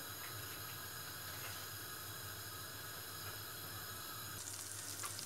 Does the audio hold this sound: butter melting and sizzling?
yes